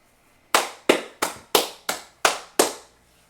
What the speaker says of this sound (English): Let's go ahead and clap it up